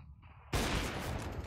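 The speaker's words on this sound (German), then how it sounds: "Nochmal der Schuss." A single sharp gunshot blasts out suddenly from a Counter-Strike match on the Train map, loud and close. A dense, sustained wash of reverberant gunfire noise trails on after the initial crack.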